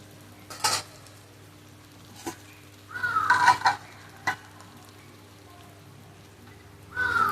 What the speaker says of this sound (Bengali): এবার এই অবস্থায় একটু একটু করে গরম জল দিয়ে আমি আবার একটু ভালোভাবে কষিয়ে নেব